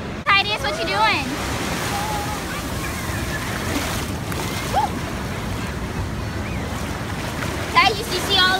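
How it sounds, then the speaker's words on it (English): Beach surf washes steadily throughout, a broad continuous roar of breaking waves with wind buffeting the microphone, while children's voices chatter briefly near the start and end. "Enjoy this montage with us at the beach."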